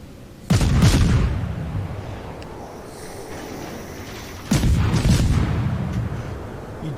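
Naval gunfire in the World of Warships game: two heavy booming salvos about four seconds apart, each a loud sudden blast with a long rumbling decay, heard alone without talk.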